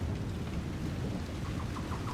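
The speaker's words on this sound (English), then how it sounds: "that fire's holding up really good in this pretty torrential downpour" A torrential downpour in a storm on the coast in Dragon Age: Inquisition: a dense, steady roar of heavy rain with a low rumbling bed of thunder, loud and continuous, with no voices.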